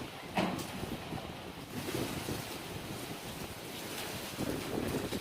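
Strong gusting wind from a dusty wind storm, a steady loud roar of rushing air and buffeting against the microphone throughout, with no talking.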